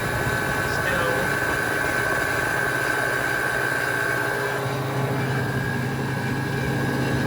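Small refrigeration compressor on a walk-in cooler with an accumulator, running with a steady low hum and drone, a constant tonal whine above it, continuous and fairly loud.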